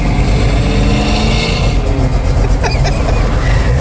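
Hot rod car with a 455 engine revs loudly and close, a dense, rough, continuous roar with brief surges, heard alone without talk.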